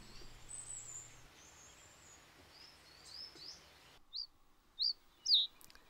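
A kingfisher by a Pennine stream gives three sharp, high, piercing calls spaced about half a second apart near the end, clear over quiet background after faint flowing-water hiss and distant chirps.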